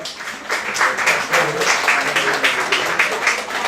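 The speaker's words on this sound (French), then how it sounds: "Regardez ça, ça s'applaudit." Applause for a longtime restaurateur with 32 years in a Paris 13th-arrondissement restaurant, a steady patter of claps from a small gathering, moderately close and fairly even for several seconds.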